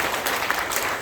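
Church congregation clapping during a 45th-anniversary ordination service in a Korean church, a brief burst of steady applause filling the room.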